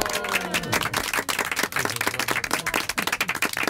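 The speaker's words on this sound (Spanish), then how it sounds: "Le estamos aplaudiendo," An audience applauds doña Marcelina, an elderly woman, at a celebration, with close, uneven hand claps that start dense and thin into separate rhythmic claps, with a brief voice at the start.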